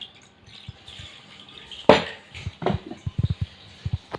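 Water poured into a bowl in a home kitchen while making pachadi, a short splashing gush followed by a series of small irregular drips and trickles, close and fairly quiet.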